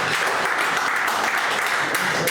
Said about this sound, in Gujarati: એકવાર જોરદાર તાળીઓથી ડૉક્ટર પંકજ લાખાણીને વધાવીએ